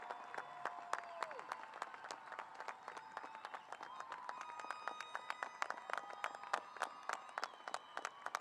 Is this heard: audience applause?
yes